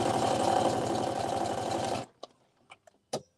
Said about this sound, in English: Now I'm just doing a stay stitch